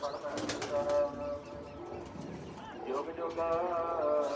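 Large pigeons coo softly from a loft while a person talks nearby, the murmuring calls running under the voice for several seconds.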